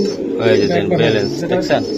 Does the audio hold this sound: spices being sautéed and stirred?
no